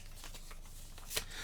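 A deck of playing cards is shuffled once, a short papery riffle burst set against a steady background hum.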